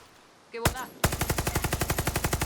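A gun in the video game Far Cry 6 fires a rapid, evenly spaced automatic burst of about twenty loud shots, preceded by a short mechanical click and a single blast.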